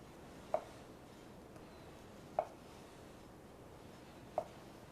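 A knife cuts peaches into half-inch slices, making three faint, evenly spaced taps as the blade meets the board in an otherwise quiet room.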